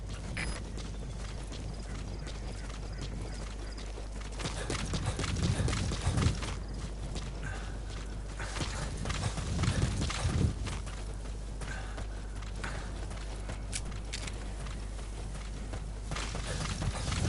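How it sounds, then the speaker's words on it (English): A horse in Metal Gear Solid V trots along with a steady run of hoof clip-clops over constant low background noise, the footfalls swelling in short bursts and then settling again. "I know I'm supposed to ride the horse"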